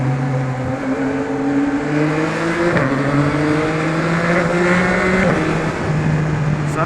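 A Kawasaki ZX6R sport motorcycle engine revs high and climbs through gear shifts, loud and sustained, with wind rushing throughout.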